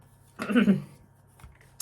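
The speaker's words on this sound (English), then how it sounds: "I gotta shuffle the cards till I just feel like we're done." A deck of tarot cards gets shuffled in a single quick papery burst lasting under half a second, close and fairly soft, then quiet with a faint tap near the end.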